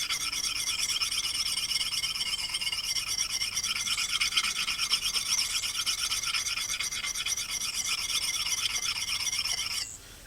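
An axe blade rasps steadily against a sharpening stone in continuous back-and-forth strokes, close and even, stopping abruptly near the end.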